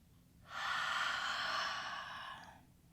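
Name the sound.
exhaling breath during Pilates stretch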